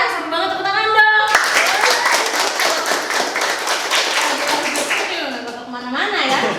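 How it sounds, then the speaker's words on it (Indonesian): Applause from a group of people, a dense burst of clapping that carries on for several seconds between bits of talk at either end. "tepuk tangan dong"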